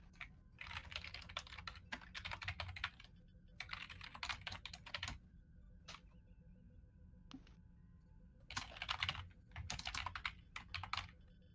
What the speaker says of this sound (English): Yes, I know Commander Wolfgang is typing